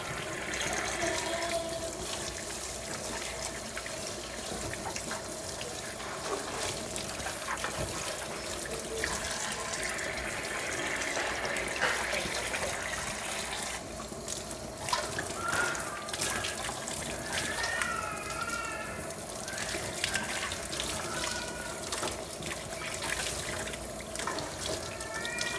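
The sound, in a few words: rinsing milking equipment with fresh tap water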